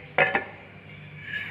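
A clay pot set from Thoothukudi with its lid gets handled, giving two quick clinks of lid on pot close by, followed by quiet room tone.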